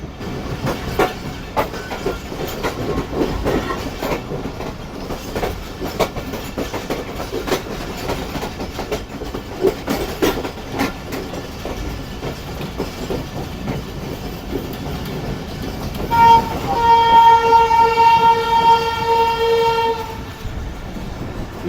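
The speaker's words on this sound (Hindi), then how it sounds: "ये वन अप खैबर मिल निकल रही है लांडी जंक्शन से जो कि मेरे अपोजिट साइड पर है।" Passenger train 1Up Khyber Mail leaving Landhi Junction, rumbling and clattering across the tracks on the opposite side, then a long loud horn blast near the end.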